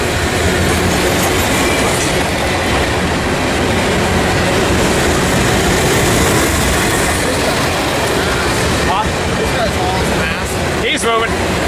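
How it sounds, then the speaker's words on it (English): A train roars past very close and loud at a railway station, a continuous rumble of wheels on rails with metallic squeals, wind buffeting throughout. "You can feel the wind off the train."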